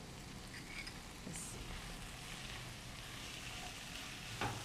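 Chopped tomato hitting a hot pan with capsicum and peas over a raised gas flame for jowar noodles, giving a steady, fairly quiet broadband sizzle that runs continuously with a few faint stirring clicks.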